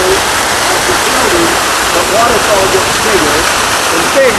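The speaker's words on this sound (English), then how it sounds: "at each level of the building, the waterfall gets bigger and bigger and bigger" The rooftop waterfall at the Salt Lake Conference Center pours in a loud, dense, continuous rush, with a voice speaking faintly underneath.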